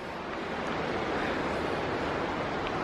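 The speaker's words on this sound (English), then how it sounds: "You can hear its swift running water." Swift river water rushing below a wooded trail at Audra State Park, a steady, dense roar with no breaks and no voices.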